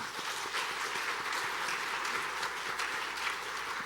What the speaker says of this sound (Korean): 우리 뜨겁게 박수 보내드리겠습니다.